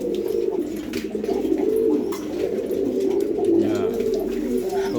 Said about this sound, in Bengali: সবাই তো ডাকাডাকি শুরু করে দিয়েছে এই ডাকগুলো আবার সব থেকে বেশি ভালো লাগে